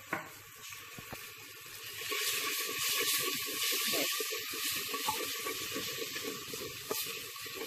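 Chicken curry masala sizzles and fries in a clay pot after a splash of water is added, with a steady hiss and bubbling and occasional stirring clatter, close and fairly loud.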